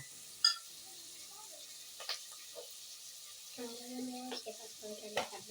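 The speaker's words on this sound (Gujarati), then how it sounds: "હલાવે રાખવાનું જ્યાં સુધી બટાટા બધું મિક્સ ન થઈ જાય ત્યાં સુધી હલાવવાનું" Quiet, intermittent scraping and clinking as potatoes are stirred in a pan for spiced rice, with a soft sizzle underneath and someone talking.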